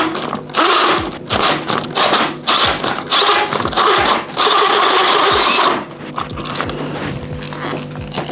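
A drill bores through the plastic lid of a Fluval aquarium, giving a loud, close grinding whir with rhythmic catches and creaks that settles into a steadier drone near the end.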